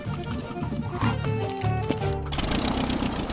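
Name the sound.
cheap small plane engine sounding like a lawn mower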